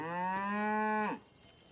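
A single cow moos once in a long, steady, deep low call that stops abruptly, close by, followed by quiet background.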